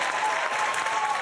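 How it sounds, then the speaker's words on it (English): Dense, steady applause from a large crowd on a political convention floor, sustained and even throughout with no pauses. "Pastor Lorenzo Sewell is getting a lot of applause here"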